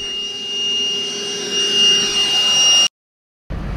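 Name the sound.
vacuum cleaner cleaning a tractor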